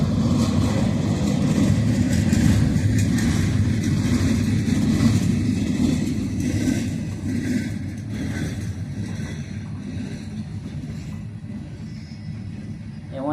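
Empty freight train cars rolling past with a low, continuous rumble and rattle that holds steady and then slowly fades, a heavy engine drone underneath and no voices.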